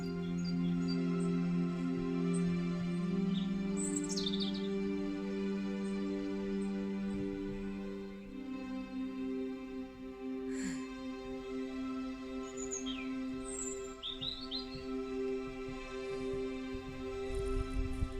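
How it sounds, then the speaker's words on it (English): Birds calling around a garden, scattered chirps and short whistled phrases, some near and some farther off, over a steady low hum and constant background drone. "Also, listen to the birds. This time of year, they are much more vocal."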